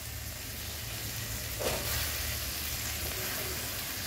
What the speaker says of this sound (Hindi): अब इसको फ्राई करते हैं, थोड़ी मटर भुन जाएगी।